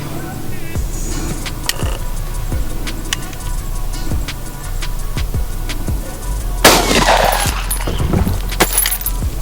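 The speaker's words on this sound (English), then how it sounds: "I want to see what these 9mm rounds are going to do to the watermelon" Rounds of 9mm non-hollow-point ammunition fired at a watermelon outdoors: a steady series of sharp, distant-sounding cracks spaced about a second apart, with a louder burst of noise partway through.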